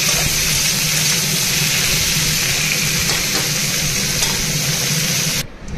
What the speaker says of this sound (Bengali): এদিকে আমি কাঁঠালগুলো অল্প হালকা করে ভেজে নিচ্ছি তেলের মধ্যে।